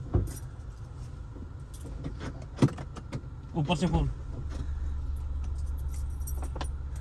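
Car keys jangle and clink in several quick bursts beside a parked car, with a low steady hum underneath while people talk nearby.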